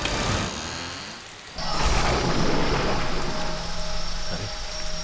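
Heavy, steady rain pours down during a storm, with a low rumble of thunder; a quieter, more muffled stretch comes first, then the downpour swells loud and dense for the rest.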